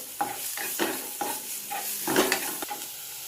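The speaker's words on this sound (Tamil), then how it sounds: "இந்த வெங்காயம் நல்லா வதங்கட்டும்." Onions frying in a pan for wheat veg momos filling, stirred with a utensil: a steady sizzle with regular scraping strokes about every half second, moderately close and fairly quiet.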